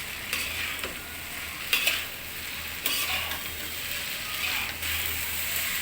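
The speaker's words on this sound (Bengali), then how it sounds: "এই সবগুলো রেসিপি একসাথে আমি এখন নাড়াচাড়ার মধ্যে রাখবো" Beef pasta with peas and potatoes is stirred in a pan, with a low steady sizzle broken by a handful of sharp scrapes and clicks of the utensil.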